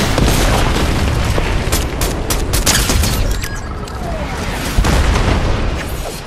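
Rocket explosions and heavy gunfire in a Fortnite Chapter 5 squad match, a loud continuous barrage of booms and sharp bursts, with players speaking under it.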